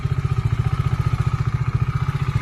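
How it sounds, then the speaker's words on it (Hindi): A Bajaj Dominar 400 motorcycle engine idles about half a minute after a cold start, giving a close, steady, evenly pulsing thump with a faint mechanical clatter and no talk. "ये कुछ है मेरे डोमिनार का साउंड एट कोल्ड स्टार्ट करके अभी एक 30-40 सेकेंड्स हुए हैं।"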